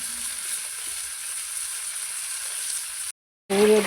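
Sizzling from a wok heated over a high flame makes a steady close frying hiss, which cuts out briefly near the end before loud, brighter sizzling returns.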